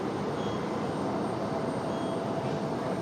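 An airliner bound for Phoenix takes off from runway 23 right at Raleigh Durham airport, a steady broadband engine roar that fills the whole stretch, loud and continuous without any voices.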